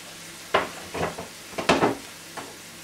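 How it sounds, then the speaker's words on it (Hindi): Green onions sautéed on high flame in a wok for dragon chicken, a few short bursts of sizzling and stirring scrapes against a low background hum, close and distinct, no voices. "1 से 2 मिनट के लिए हाई फ्लेम पर आपने इसको जो है यहाँ पर बीच में सौटे करना है।"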